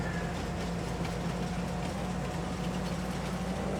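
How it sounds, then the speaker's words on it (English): A train in the video game Farming Simulator 22 rolls along with a steady, even rumble and a low droning hum that holds unchanged from start to finish, with no voices over it. "Let's just take the train there."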